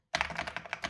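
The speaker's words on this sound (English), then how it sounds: "if I start typing here" Typing on an Ajazz AK820 Pro keyboard connected over Bluetooth: a quick run of about eight crisp, close keystrokes in a steady rhythm after a brief silence, with no voices.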